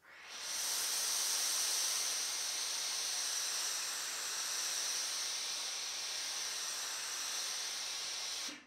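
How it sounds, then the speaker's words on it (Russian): Steady, broadband hissing of steam from a Lelit PS 21 steam generator iron runs unbroken for several seconds at a moderate, even level, with no voices. "этот поток воздуха, горячего пара, идет и на достаточно большом расстоянии с очень сильной мощностью"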